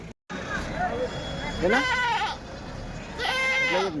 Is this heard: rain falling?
no